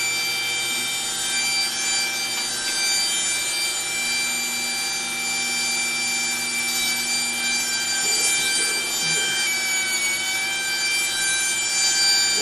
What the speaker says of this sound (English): So I'm just going to grind a little bit of chamfer on there to compensate for the radius.